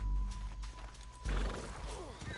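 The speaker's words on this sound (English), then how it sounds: "Get him on your horse." A horse neighs and its hooves clatter during a canyon chase in the video game Red Dead Redemption, alongside game music and effects, with a louder burst of activity in the second half.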